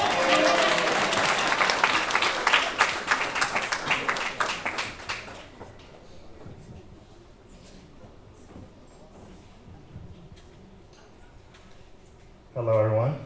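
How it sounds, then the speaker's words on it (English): Wedding guests at Azalea Lodge in Winter Park, Florida, applaud and cheer loudly as the best man walks up. The dense clapping fades after about five seconds into quiet room murmur, and a voice speaks near the end. "We can keep clapping"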